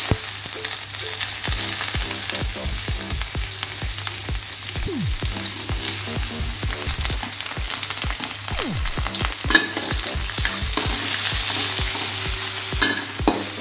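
Shrimp and meat stir-fried in a pan, a constant loud sizzle with frequent spatula scrapes and clanks, close by and without any talking.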